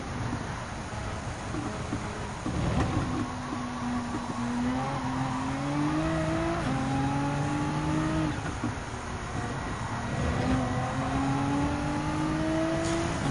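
A race car engine in Gran Turismo 7 at Circuit de Spa-Francorchamps, droning steadily and climbing in pitch through repeated gear shifts under sustained acceleration, with no voices over it.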